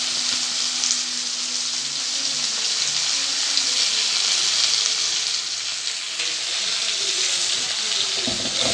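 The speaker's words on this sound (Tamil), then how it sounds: "வாழைக்காய் சேர்த்து நல்லா வதக்கிக்கலாம்." Raw plantain sautéing in a pan for a poriyal, with a steady, close sizzle and soft frying hiss throughout, a faint voice in the background.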